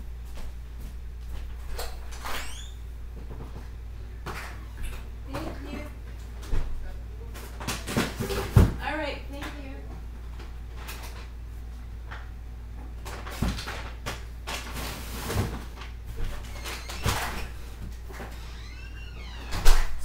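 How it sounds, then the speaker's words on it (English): A front door is unlatched and opened at home, with a few knocks and handling clatters scattered through a quiet room, some louder thumps near the middle and at the end, and occasional faint speech. "I gotta answer the door."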